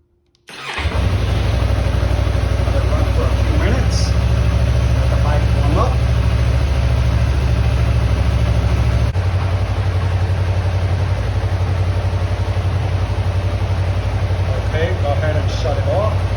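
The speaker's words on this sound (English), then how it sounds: "the first thing you want to do is turn on the bike" A Yamaha MT-03 motorcycle starts and settles into a steady, loud, close idle, its low engine note running continuously with a slight change in tone partway through.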